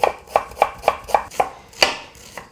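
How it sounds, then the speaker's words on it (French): A kitchen knife chops an onion into small cubes on a cutting board, with about eight crisp, evenly spaced knife strikes in a quick steady rhythm, close and clear, and no talking. "Et le temps que ça fonde, j'ai juste le temps de couper mon oignon."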